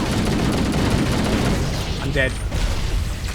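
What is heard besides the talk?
explosions in a video game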